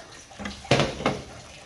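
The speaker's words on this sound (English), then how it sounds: "Add a bit more water" A little water is poured into a pot of Jamaican-style pot roast pork: a short splash and trickle lasting under a second, close and fairly clear.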